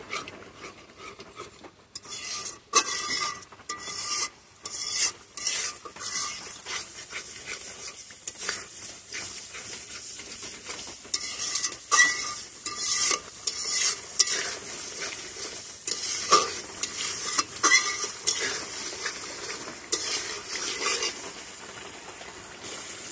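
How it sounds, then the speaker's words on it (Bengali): Spice masala stirred and fried in a pan for a potol dish, a steady loud sizzle broken by repeated scraping strokes of a spatula, close up and with no voices. "এভাবে আমি ভালো করে নেড়ে চেড়ে মশলাটাকে ভালো করে কষিয়ে নেব।"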